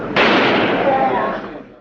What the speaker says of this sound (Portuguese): Oswald sendo transportado para a prisão, ele foi morto a tiros por Jack Ruby, dono de um clube noturno.